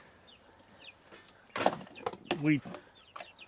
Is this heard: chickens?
yes